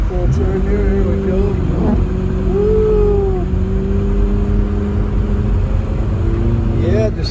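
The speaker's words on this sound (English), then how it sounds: "it makes me feel so good that I just want to keep on driving around and doing donuts like this" A car doing high-speed donuts, its engine holding a sustained droning tone that rises and dips as the wheel is spun and the brakes are tapped, running steadily for several seconds.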